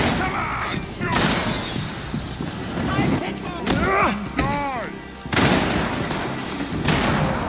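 Rapid gunfire and shattering glass in Max Payne 3 crack out in dense bursts, loud and close, with ricochet-like whines between volleys and a voice shouting over the action.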